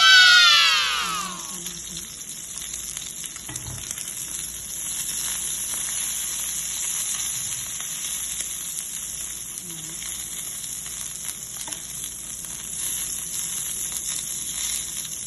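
Steak sizzles in a pan, a continuous fizzing hiss that holds steady after a brief loud squeal at the start, with faint background noises.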